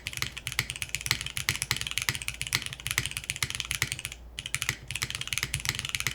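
Rapid, continuous typing on a Finn 60XT keyboard with an aluminum case: crisp, close key clacks in a steady stream with one brief pause near the end, no voices.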